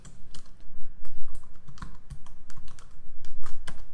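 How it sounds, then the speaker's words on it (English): Rapid typing on a computer keyboard while entering program code, a dense run of close, loud key clicks with an irregular rhythm and no pauses or talk. "now we'll type something in the middle"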